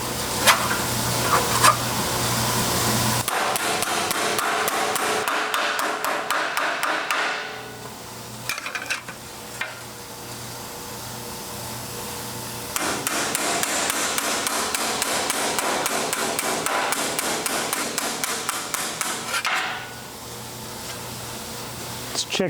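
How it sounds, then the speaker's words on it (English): Metal rust-repair patch panel for a car fender being hammered into shape, bursts of rapid ringing metallic blows close and loud, with short pauses between runs. "I'm just going to hammer this side in because pinching it doesn't seem to work all that well."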